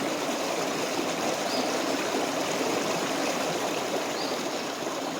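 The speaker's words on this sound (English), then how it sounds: "listen to the sound of a babbling creek" A babbling creek flows steadily at a homestead in the Canadian wilderness, a continuous close watery trickle and rush with no voices.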